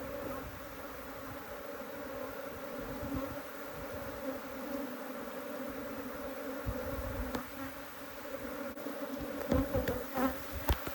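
A swarm of Africanized honey bees drones in a continuous steady buzz, close and fairly quiet, with scattered handling knocks and rustles toward the end.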